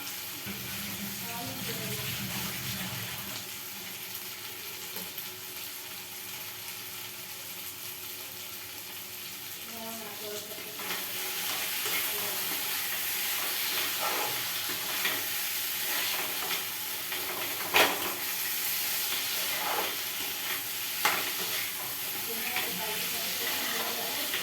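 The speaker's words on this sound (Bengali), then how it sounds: "এবার এর মধ্যে বন্ধুরা আমি জল দিয়ে দিচ্ছি" Water goes into a hot frying pan midway, turning a quieter sizzle into a louder, broad, steady hiss that lasts to the end, with a few clinks of stirring.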